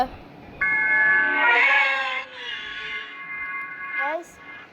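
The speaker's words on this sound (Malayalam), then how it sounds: "എന്തൊരു പൂച്ച" A video-game cat gives a long, drawn-out meow that rises and wavers, then a short upward mew near the end, loud and close.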